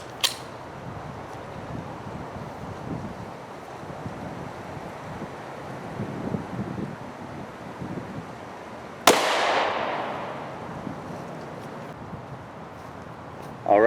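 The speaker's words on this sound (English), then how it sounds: "next up is a 357 SIG 125 grain Winchester white box full metal jacket." A single sharp gunshot from a 357 SIG 125 grain Winchester white box full metal jacket round, loud and close, following a stretch of wind noise outdoors.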